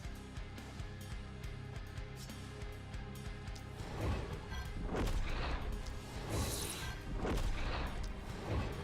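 Cannons fire in The Last Spell, a turn-based fantasy game, producing a run of heavy booming blasts that swell into loud crashing impacts midway through, over a dense, constant battle-music backdrop.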